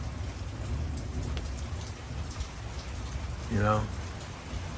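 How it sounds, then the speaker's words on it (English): Tapering rain falls on a Monday in Los Angeles, a soft, steady hiss at low volume, with someone speaking briefly near the end. "the rain is already tapering off"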